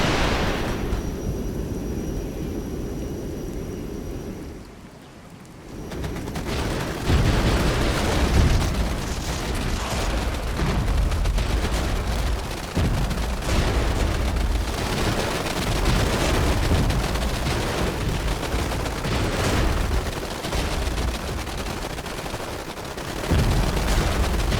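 A rocket barrage fired blind in the wargame Regiments roars continuously for over twenty seconds, dense with overlapping booms, blasts and rattling fire, with one brief lull near the start.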